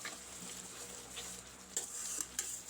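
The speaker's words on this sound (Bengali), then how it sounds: "আমার মশলাটা কষানো হয়ে গেছে" Spice paste stir-frying in a pan for a dahi vada dish, a low continuous sizzle broken by brief scraping and clinking of a spatula near the end.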